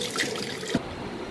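A faucet runs into a sink during handwashing, a soft steady stream of water with a small splash, brief and close.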